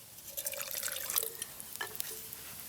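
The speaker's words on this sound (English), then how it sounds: "I'm going to add a splash of water" Water splashed into a hot frying pan of oil and dandelion root gives a brief hissing, dripping burst that fades into soft sizzling, close and moderately loud.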